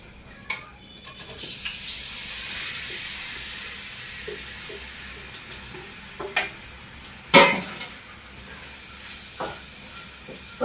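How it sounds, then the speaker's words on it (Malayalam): Sliced banana sautéing in coconut oil in a pan, a soft steady sizzle and hiss with a few utensil clinks and one sharp scrape near the end. "നെയ്യിന് പകരം കുറച്ച് വെളിച്ചെണ്ണ ഒഴിച്ചിട്ട് നമുക്ക് പഴം വഴറ്റാം"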